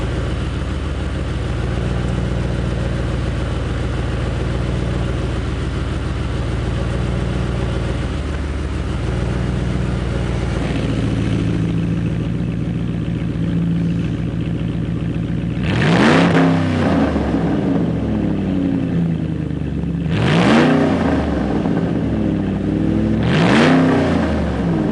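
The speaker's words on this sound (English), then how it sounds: "the exhaust cutout, which you can now hear." A Ford Taurus SHO engine with the exhaust cutout open idles with a steady low rumble, then revs sharply three times in quick bursts that rise and fall, loud and close.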